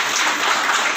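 Audience applause at a conference in Ambala city, a brief steady wash of clapping filling the hall at moderate loudness with no talk over it.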